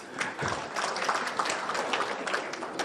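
Conference attendees clap for themselves at a session's close before a lunch break, a steady burst of applause filling the room for a few seconds.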